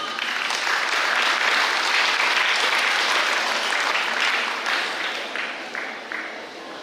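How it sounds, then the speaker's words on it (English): A graduation crowd at Pohnpei Catholic High School gives the school principal a sustained, dense round of clapping that holds strong for several seconds, then gradually thins and fades toward the end. "To give the closing remarks, may we once again give a round of applause to our very own principal, Ms. Yolanda Yamada Nambe."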